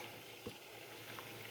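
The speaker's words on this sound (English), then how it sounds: "my water's already boiling" Water boils in a pot on the stove for a tea of garlic, turmeric and dried pomegranate skin, giving a faint, steady bubbling hiss with no talking.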